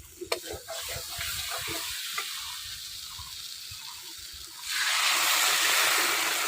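Water is poured into a pan of frying katla fish curry with potatoes. Steady stirring and sizzling give way to a louder, broader hiss as the water hits the hot oil, with no talk over it.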